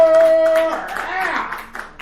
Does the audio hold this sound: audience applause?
yes